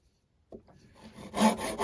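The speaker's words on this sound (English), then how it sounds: "When you use a rasp, you've got to be especially careful of the grain breaking apart." A rasp files the edges of a wooden pencil holder clamped in a vice, with faint handling sounds followed by several close, coarse rasping strokes that grow louder toward the end.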